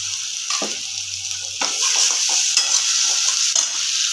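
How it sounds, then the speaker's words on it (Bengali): Ginger-garlic paste frying with already fried onions in a pan: continuous bright sizzle with repeated spatula scrapes and clinks against the pot, close and alone with no speech. "পেঁয়াজটা এখানে দেখুন ভেজে নিয়েছি এবার আমি এখানে দিয়ে দেবো একটু আদা রসুন বাটা"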